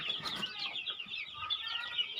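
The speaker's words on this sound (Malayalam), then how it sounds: "അവിടെ ഇവിടേക്ക് കിടന്ന് ഓട്ടമാണ് കോഴികൾ." Free-range country chickens clucking and fussing in a farmyard after leaving their coop, a steady overlapping chorus of several birds at moderate distance with no talk.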